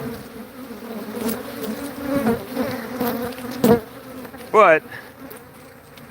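Honey bees buzz around a backyard beehive where they are spilling out the top, a close steady drone with a few louder passes near the microphone and a brief spoken word.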